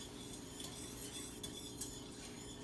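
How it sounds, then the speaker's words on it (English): A utensil stirs butter melting in a pot for homemade fudge, producing a soft, steady scraping with faint sizzling and a few light clinks against the metal, quiet and close with no talking. "It's not too hard to stir the butter"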